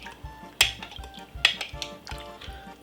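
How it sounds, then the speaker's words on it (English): A spoon stirs a cinnamon and lemon water drink in a glass or jug, giving two sharp clinks against the side over soft, steady swirling and light tapping, close and fairly quiet. "Give it a nice lovely stir."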